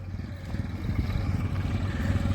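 A steady low engine rumble from a 4x4 tractor runs throughout with a slight rise in intensity, idling nearby; no voices.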